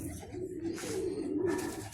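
Pigeons coo softly nearby in a low, steady burbling murmur, with no voices over them.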